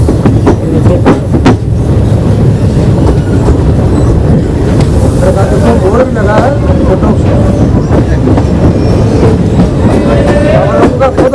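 A train runs along railway tracks with a loud, steady roar and rhythmic wheel clatter, close and continuous throughout, with a faint screech rising now and then and voices murmuring beneath.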